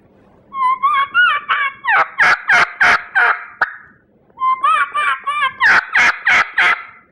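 A turkey call imitating a young hen sounds in two sequences: a few rising whistled notes followed by a run of sharp, loud yelps, repeated after a short pause.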